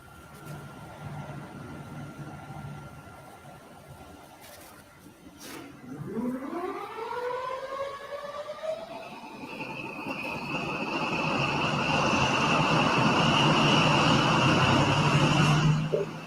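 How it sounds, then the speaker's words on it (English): A Paxman Valenta diesel engine on an HST train starts up, a turbo-like rising whine climbing steadily in pitch and swelling into a loud, sustained roar that builds through the end, with no talk. "Right, Danny, put in a Paxman Valenta startup, like, put that in, like HST"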